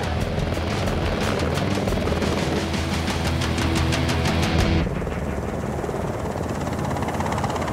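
A helicopter flies close by near Mount Kenya, its loud rotor chop pulsing in a steady rhythm before the sound drops off into a lower, steady engine drone.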